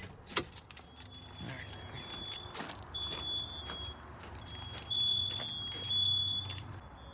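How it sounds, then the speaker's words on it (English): Keys jingle and clink in the ignition as a Nissan Frontier Pro-4X pickup is switched off, light metallic rattles scattered through the stretch over a low engine hum and faint background noise. "All right, I gotta turn the truck off."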